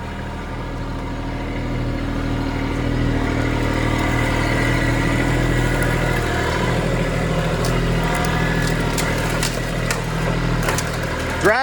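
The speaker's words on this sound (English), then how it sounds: "Not bad for a garden tractor." A garden tractor engine runs steadily throughout, a low continuous rumble with slight rises in intensity, close by.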